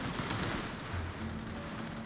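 Rapid automatic gunfire crackles in a firefight within the video game Cyberpunk 2077, dense overlapping bursts heard at a moderate distance against a steady noisy background, with no talk.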